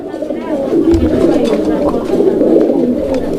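Pigeons cooing steadily in low, throaty murmurs, several birds for sale close together in Bangladesh, with a voice talking over them.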